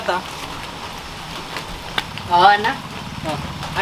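Steady rain falls in a continuous broadband hiss around a small shop, with faint voices talking and a brief louder voice midway.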